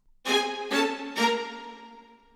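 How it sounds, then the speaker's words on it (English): Strings play three short, bouncing spiccato notes in a disco-style remix of a Library of Ruina battle theme. Each note attacks sharply and rings briefly before the next, with a clear, evenly spaced rhythm. "we also have strings playing spiccato to create the kind of disco-like sound."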